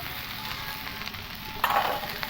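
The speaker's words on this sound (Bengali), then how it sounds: "এবার ভালো করে নাড়িয়ে নেবো" Spice paste frying with parboiled jackfruit and potato, stirred in a pan: a steady close sizzle throughout, with a brief louder scraping surge from stirring near the end.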